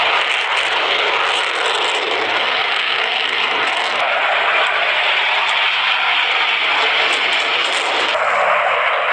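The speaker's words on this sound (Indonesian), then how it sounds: "ada pesawat pemburu" A fighter jet passes overhead with a loud, sustained roar that holds steady throughout before dipping slightly near the end, heard outdoors near trucks and heavy equipment.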